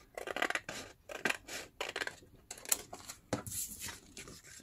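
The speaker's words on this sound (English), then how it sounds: "So I'm gonna use that first score line as my navigator and cut this off." Scissors snip paper along a score line while an envelope is trimmed from a 12x12 sheet, giving a series of close, crisp cuts in uneven bursts with brief pauses, without voices.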